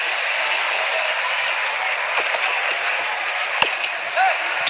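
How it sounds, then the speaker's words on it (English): Crowd in the cricket video game RC24 cheering and clapping, a steady dense roar of applause from a full stadium with a few sharp clicks over the top. "The crowd is enjoying every bit of this action."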